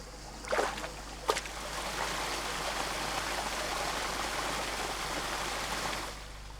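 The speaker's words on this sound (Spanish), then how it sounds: "Manolo va conduciendo el agua por los surcos para que toda la parcela quede regada uniformemente" Irrigation water runs steadily through the furrows of a traditional vegetable plot, a continuous soft rushing trickle heard close by, with a couple of brief splashy knocks at the start.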